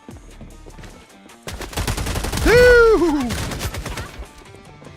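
Rapid gunfire from a sniper rifle in a video game crackles in a dense burst, loud and close, while a voice shouts briefly over it.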